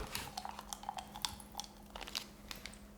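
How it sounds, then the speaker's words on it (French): Popping candy crackles and snaps inside a chewing mouth, with quick irregular close-up pops and crunches scattered over three seconds at low volume. "Mais ça pétille de fou là quand tu croques en plus, c'est encore pire"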